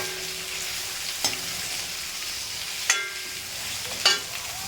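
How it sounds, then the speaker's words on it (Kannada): Onion, chopped carrots, beans and green chillies frying in a pan, a steady close sizzle broken by three sharp spoon scrapes against the metal, no talking. "ಈರುಳ್ಳಿ ಫ್ರೈ ಆದಮೇಲೆ ಸಣ್ಣಗೆ ಹೆಚ್ಚಿಟ್ಕೊಂಡಂತಹ ಕ್ಯಾರೆಟು, ಬೀನ್ಸು, ಮೆಣಸಿನ್ಕಾಯಿಯನ್ನು ಹಾಕಿ ಚೆನ್ನಾಗಿ ಹುರಿಬೇಕು"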